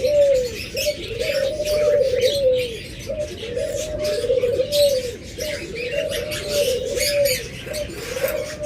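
Pet birds in cages chirp and call repeatedly, a steady series of rising, bright tweets close by with soft coo-like tones and light rustling beneath.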